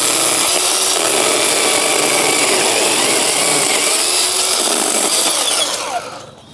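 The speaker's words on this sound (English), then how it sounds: "I gotta cut this branch and this shrub" A Ryobi 18V brushless 6-inch pruning saw cuts through a branch and shrub with a loud, continuous buzzing rasp. It runs without pause for about six seconds, then winds down and cuts off.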